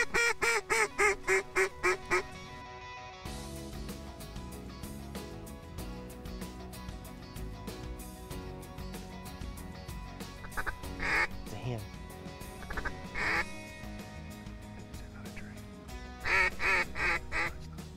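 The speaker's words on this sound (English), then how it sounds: "that's where the ducks are coming" Ducks at a hunting spot quack in repeated loud bursts near the start, again around the middle and at the end, over a busy background of outdoor noise.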